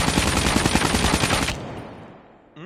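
Fast automatic fire from a KN-44 rifle in the mobile shooter Call of Duty Mobile, a dense rapid burst lasting about a second and a half before cutting off into a fading reverberant tail, close and loud with no talking.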